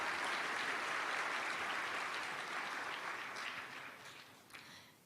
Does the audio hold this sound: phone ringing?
no